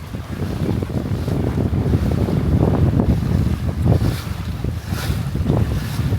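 Steady wind buffets the microphone aboard a Catalina 22 sailboat on an afternoon of 6 to 8 knot breeze gusting toward 15, with water sloshing against the hull in a continuous, loud rush.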